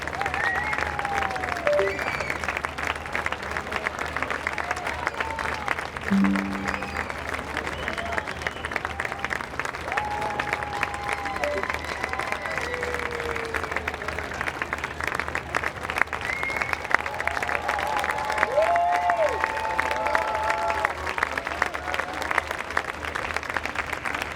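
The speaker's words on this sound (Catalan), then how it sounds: "Un fort aplaudiment per l'Esbar de Sant Martí." A large outdoor crowd applauds a folk dance group at a festival in a city square, continuous steady clapping with some scattered voices and whistles mixed in.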